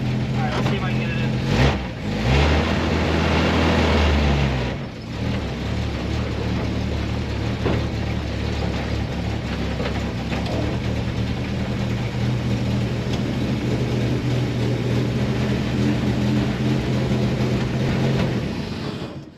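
A 1954 Chevy car idles steadily and then pulls away driving, its low engine rumble loud and continuous throughout, with a brief gap of shifting around the start.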